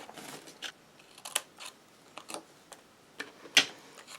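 Sharp, quiet snips of scissors cutting paper pieces for a handmade card, a scattered series of short crisp clicks at an uneven pace, close by and alone.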